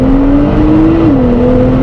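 A supercar in standard mode accelerates hard on a wet road, its engine note a loud, steady droning hum that climbs in pitch, dips at a gear change, then rises again.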